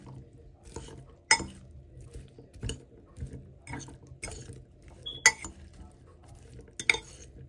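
Salad ingredients being tossed and mixed with a utensil in a bowl, close up, giving irregular light clinks, taps and soft scraping strokes spaced a second or so apart, with no talking.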